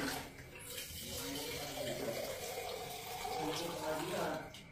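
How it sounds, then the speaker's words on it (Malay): Murky water running steadily from a tap pipe, a continuous close rushing flow with a voice talking over it. "Ni apa benda ni? Yang keluar daripada paip air."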